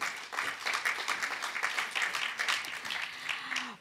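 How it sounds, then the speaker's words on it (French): Audience applause at a French conference on children affected by domestic violence, a fairly faint, steady wash of many hands clapping in a hall that continues throughout without speech. "Merci de les applaudir bien fort."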